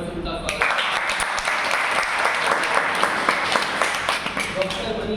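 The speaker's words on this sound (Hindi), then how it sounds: "हम जोरदार तालियों से उनका स्वागत करते" An audience claps warmly to welcome a guest speaker, mass communication department head Dr. Manish Jaisal, at a university drama department event on theatre and cinema censorship; the applause is dense, loud and steady.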